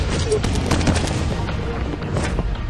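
Sniper gunfire in a tense drama scene, a dense stretch of loud cracking shots and booms layered over background noise, continuous and close throughout.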